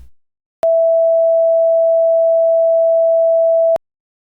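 A pure sine tone at 659 Hz, fairly high-pitched, sounds alone for about three seconds, loud and perfectly steady, starting and stopping abruptly against silence.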